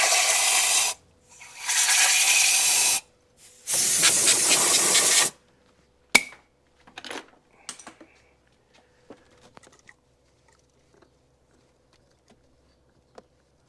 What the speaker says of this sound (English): going to go ahead and blow this coolant out of the cylinder so it doesn't rust out my cylinder